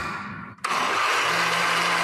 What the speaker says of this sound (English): He's got a lemon and just put it into the blender.